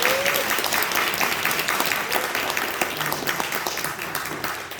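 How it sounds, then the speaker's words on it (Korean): An outdoor church congregation applauds in a dense, steady wash of many hands clapping, loud throughout and easing slightly toward the end. "박수 한번 해주시면"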